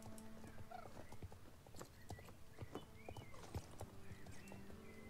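Horse hooves in Star Stable Online clip-clop irregularly at a moderate distance amid layered ambient noise and scattered faint calls.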